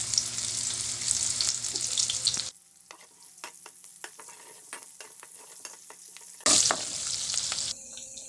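Chopped onion and garlic sauté in an oiled pan for bamboo shoot dish, a steady sizzle broken by a quiet stretch with spatula taps, then a loud hiss as the pan flares again.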